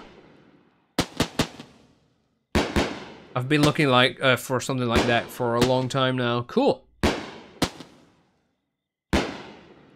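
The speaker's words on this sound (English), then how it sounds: "I really like that wiggle of the firework going up." Sharp firework bangs and crackles in short bursts in the video game Fireworks Mania, with a person talking excitedly between the pops.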